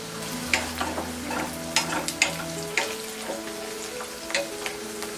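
Onions and green peas fry in a pan with a steady, close sizzle, while scattered clinks and scrapes of stirring come through over a low background hum.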